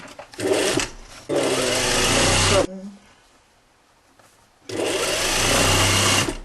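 A sewing machine stitches the seam of a jacket sleeve in two loud, rapid whirring runs separated by a quiet pause, with a voice speaking briefly in between.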